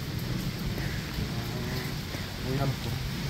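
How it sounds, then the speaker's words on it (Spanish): Rain falls outdoors as a steady, close hiss that fills the background while a voice is faintly present. "No, pero qué bonita, mire la lluvia."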